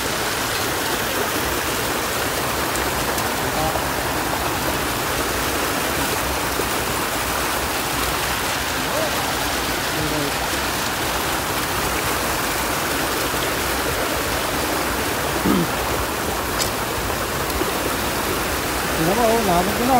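Strong mountain water rushes through an irrigation flow among farm fields. The dense, hissing roar of the current holds steady and close for the whole stretch, with only faint hints of voices.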